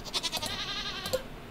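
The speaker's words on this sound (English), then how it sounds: "Where's my goat? It's right there." A goat in Stardew Valley bleats with quavering, wavering cries, several short bleats in quick succession, fairly clear against a quiet background.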